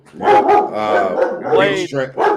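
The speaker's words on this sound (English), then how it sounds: "somebody walking by with her dog" A dog barks as a person walks by with it: several short, loud, close barks and yips in an uneven rhythm, with voice-like sounds mixed among them.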